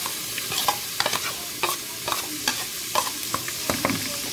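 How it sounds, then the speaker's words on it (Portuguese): Chopped onion fries in butter in a pan with chicken, giving a steady close sizzle broken by repeated scraping stir strokes at an irregular rhythm, no voices. "Vou colocar aqui a cebola."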